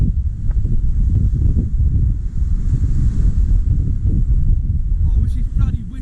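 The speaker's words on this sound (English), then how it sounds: "I wish this bloody wind stopped though." Strong wind buffets the microphone on a beach at Cley, North Norfolk, during beach fishing at low tide. The roar is loud, close and continuous, with gusty low rumbles and faint surf underneath.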